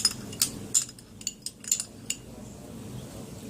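A metal spoon clinks against a small bowl while stirring a lemon juice lip mixture, several sharp taps in the first two seconds, then quieter scraping, with no talking.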